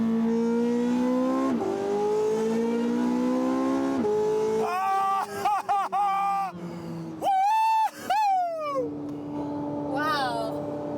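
A Porsche 918 Spyder with straight pipes, heard from on board, revs hard through the gears: a loud, rising engine howl drops abruptly at each quick shift and then climbs again. Brief gaps and a voice appear near the end.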